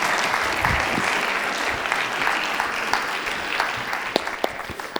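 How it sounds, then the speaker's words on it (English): An audience at a customer experience conference presentation in Amsterdam claps in steady, sustained applause, a dense wash of many hands filling the room for several seconds. "Can we have an applause at least for daring to share this horrible?"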